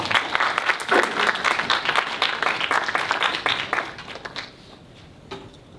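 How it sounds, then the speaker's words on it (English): A student audience gives loud, dense applause as senatorial candidates walk onto the stage for a university election debate, sustained for about four seconds before fading to a few scattered claps. "Please give our candidates for Social Sciences Senator a warm round of applause as they enter the stage."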